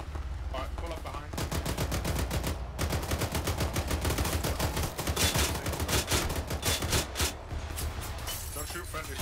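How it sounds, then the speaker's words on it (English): Rapid automatic grenade machine gun fire in ArmA 3 rattles out in dense, sustained bursts with little let-up, loud and close, while voices talk over the din. "Don't shoot so close with the GMG"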